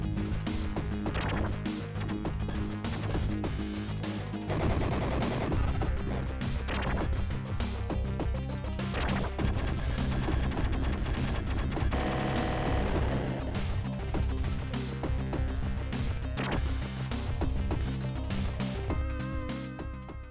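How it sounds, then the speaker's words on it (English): Shooting and blasts from the Sega Genesis game Subterrania, with rapid crashing impacts and zapping hits over steady synthesized game music, continuous and loud with no talking. "you have to try to shoot down the guys before they hit you"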